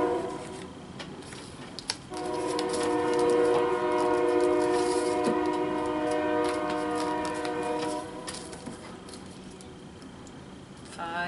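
A train horn blares in a long, steady chord for several seconds over the rumble of a passing train.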